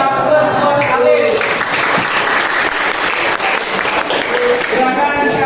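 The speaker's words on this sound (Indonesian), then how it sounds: "kasih aplaus buat kalian" Sustained applause from a seated group after a presentation, dense and steady throughout, with a voice briefly audible over the clapping near the start.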